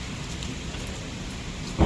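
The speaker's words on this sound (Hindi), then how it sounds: "ओ भाई बारिश आ रही है" Heavy rain falls steadily as a constant wash of noise during a downpour in Hisar, with a brief louder low thump near the end.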